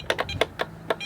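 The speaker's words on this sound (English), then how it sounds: "2 beeps, that means it worked." An Onnais gun safe keypad gives short, crisp electronic beeps while a password is set, several quick tones spaced unevenly across about a second in a quiet room.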